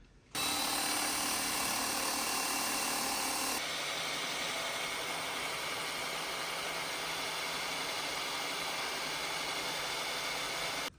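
A power drill drilling out a snapped crash bung bolt on a Ducati Hypermotard whirs steadily and loudly for about ten seconds, its pitch dropping slightly partway through, then cuts off. No voices.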